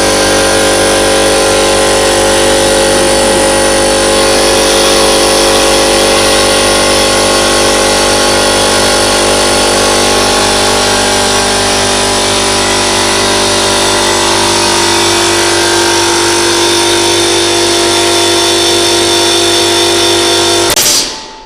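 The air compressor motor of a pneumatic trainer runs loud and steady with a constant mechanical hum and whine, then cuts off abruptly at the end.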